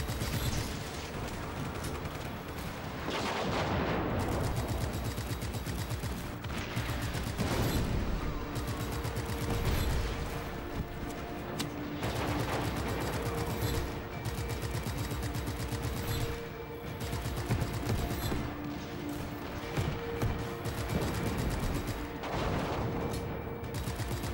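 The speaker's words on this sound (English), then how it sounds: "the airstrikes will actually hit stuff below me and help me out" Video game airstrikes and gunfire hit base structures in a continuous barrage of rattling shots and booming blasts, loud and sustained with no talking.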